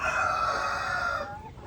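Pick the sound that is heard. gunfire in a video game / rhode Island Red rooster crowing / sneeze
rhode Island Red rooster crowing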